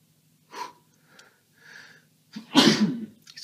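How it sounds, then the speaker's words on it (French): A few quick, soft intakes of breath build up to one sharp, loud sneeze, close to the microphone, with no talking. "Oula, je vais envie d'éternuer."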